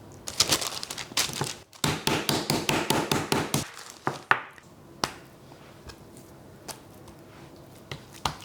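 A rapid run of sharp, repeated thuds and smacks as meat is hammered flat for German rouladen, steady and fairly close, then a few scattered single knocks with pauses between.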